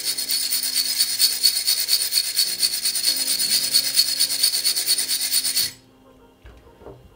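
A brush scrubs a hookah smokebox in steady, continuous rasping strokes, bright and close, before stopping abruptly and leaving near silence with a few faint handling sounds.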